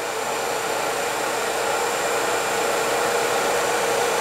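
Flywheel for an EV conversion spinning at maximum RPM, giving a constant high-pitched whirring hiss, steady and close with no variation.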